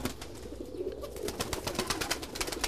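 Tumbler pigeons coo softly and repeatedly at close range, low murmuring calls mixed with light rustling and scattered clicks of birds moving about a loft.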